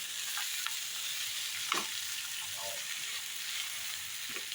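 Dried coconut roasting in oil in a pan on a gas stove, a steady quiet hiss and sizzle with a few light stirring scrapes scattered throughout.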